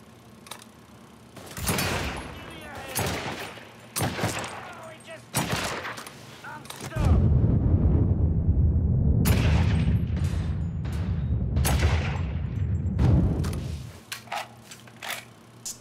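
Rifle gunfire in the video game Mafia III, with sharp loud shots and bursts spread through the clip, a long roaring stretch of sustained fire in the middle, and a voice talking between shots.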